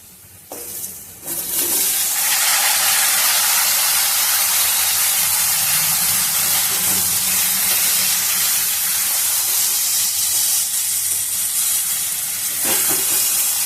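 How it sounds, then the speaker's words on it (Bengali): Fried mixed vegetables with ginger and dried red chillies hit a hot pan and sizzle loudly, a steady close hiss that swells after a brief quieter start and runs on unbroken. "আদাটা দিয়ে কষা আমার হয়ে গেছে, এবার আমি সমস্ত ভাজা সবজি কটা তুলে দেব।"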